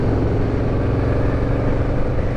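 A restored Yamaha Vmax muscle motorcycle rumbles steadily while being ridden at low speed, its engine a loud, continuous close-up drone mixed with wind noise, no voices.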